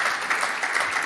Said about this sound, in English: let's give a round of applause for our wonderful panelists.